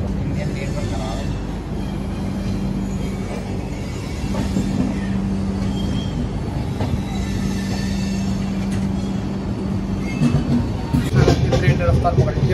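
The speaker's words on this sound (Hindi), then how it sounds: "ट्रेन रफ्तार पकड़ी है फास्ट वॉच देखो चल रही है स्पीड में" An Indian train moves at speed, producing a constant loud rumble and rattle of carriages on the rails, heard from inside throughout, with a few sharper clanks near the end.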